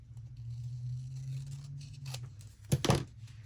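Scissors snipping off a white paper strip, a low hum first, then two quick, close cutting crunches near the end.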